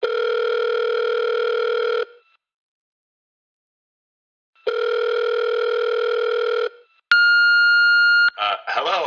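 A telephone ringing tone sounds down the line while a number is called: two long, even tones separated by a silent pause, then a sharp electronic beep followed by brief warbling electronic sounds.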